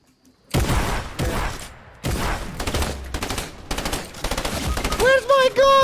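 Video game gunfire in several sharp, separate bursts of rapid shots with brief gaps between them, loud and close, with a short tonal game effect near the end.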